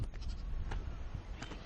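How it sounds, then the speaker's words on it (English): Sheep in a mountain pasture give several faint, short bleats at irregular intervals over a low outdoor rumble, with no one talking. "sheep have a tendency to return to familiar pastures where they grew up"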